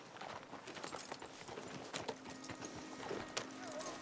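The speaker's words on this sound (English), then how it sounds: "look at all the horses coming through" Horses gallop past in Red Dead Redemption 2, a steady patter of hoofbeats with occasional louder thuds from nearby, set against a busy game ambience.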